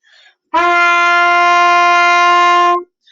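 A single sustained trumpet note, an open G, steady and bright with a rich tone, held for about two seconds after a brief quiet murmur.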